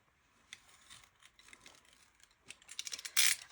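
Scissors snipping through hard cover material for a handmade book, a series of short, quiet crisp cuts building to a louder sharp snip at the end.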